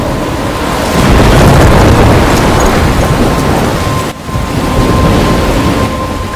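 A storm with thunder in the video game Life is Strange: a loud, continuous roar of wind and rain with deep rumbling throughout, a brief dip partway, no talking.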